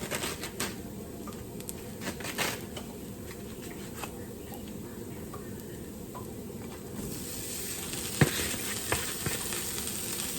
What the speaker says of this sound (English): So now I'm going to add the ground meat.